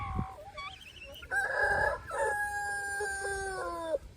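A rooster crows nearby, a long wavering call after some short clucks, loud and clear against a quiet background.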